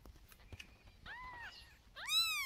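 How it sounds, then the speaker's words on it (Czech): Fat cats meowing, a couple of short close meows with a louder, rising cry at the end. "Ježiš, to jsou tučné mačičky"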